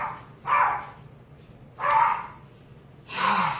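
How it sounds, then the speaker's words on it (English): Indoors, a dog barks three times at spaced intervals, each bark moderately loud and slightly distant, with quiet room tone in between. "Psycho dog."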